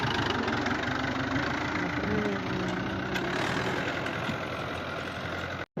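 A vehicle engine runs at a steady, rough idle up close, a continuous low mechanical drone that holds evenly before cutting off abruptly at the very end.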